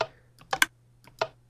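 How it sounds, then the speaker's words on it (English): A Minecraft dropper in a redstone item sorter clicks in the game: four or five sharp, quiet clicks in an uneven pattern over a faint steady hum, with no talking. "you can hear the little dropper"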